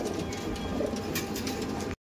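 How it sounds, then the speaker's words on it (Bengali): Madras pigeons cooing inside a loft, several birds overlapping in a steady, continuous murmur of low coos that fills the space at close range, with no talk. "এত পায়রা হয়ে গেছে, এই পায়রাগুলো এর মধ্যে রাখছি"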